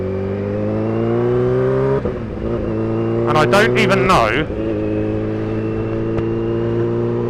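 A Kawasaki Ninja H2 motorcycle drones steadily while riding on a road, with a dip near two seconds and a short rising burst of revs midway, as a rider talks throughout.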